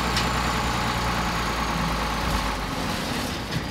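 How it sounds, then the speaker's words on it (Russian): A bulldozer engine runs steadily while compacting and piling snow at a landfill, a continuous low mechanical rumble with a faint higher whine, no voices. "Шум мотора здесь не прекращается. Сначала бульдозер утрамбовывает снег и сбивает его в кучи."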